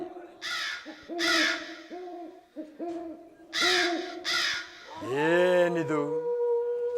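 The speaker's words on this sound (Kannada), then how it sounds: "ಕಾಗೆ ಗೃದ್ದಾದಿಗಳ ಚೀತ್ಕಾರವು ಆರಂಭವಾಯಿತು" Crows caw in several loud, harsh repeated calls, close by, followed by a drawn-out wavering howl-like cry, in an ominous scene from a Ramayana drama.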